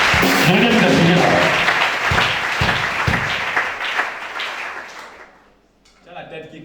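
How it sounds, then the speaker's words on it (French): A church congregation at a Sunday service applauds loudly and steadily. The clapping is dense and sustained for several seconds, then fades out, and a voice speaks at the end. "Acclame bien."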